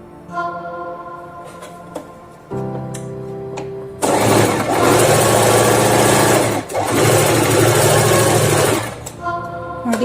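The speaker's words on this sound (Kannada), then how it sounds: "ಇದ್ರ ಹಿಂಭಾಗ ಇದನ್ನ ಇಲ್ಲಿಂದ ಇಲ್ಲಿಗೆ ನಾನು ಇವಾಗ ಸ್ಟಿಚ್ ಹಾಕ್ತಾ ಇದ್ದೀನಿ" An electric sewing machine stitches a baby cap, its loud, steady mechanical whir running in two long bursts with a brief pause between, while a person talks softly at the start and end.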